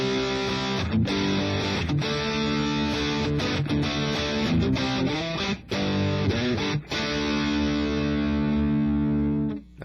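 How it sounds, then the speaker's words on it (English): A distorted electric guitar on the bridge pickup at full coil output plays loud, sustained chords and notes with a gritty, saturated tone, brief pauses between phrases. "I've turned on a bit of distortion. I'm playing just on the back pickup."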